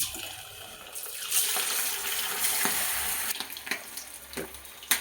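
Chicken pakoda pieces dropped into hot oil on a medium flame, bursts of loud sizzling and bubbling with a few sharp crackles and pops, near and without talk.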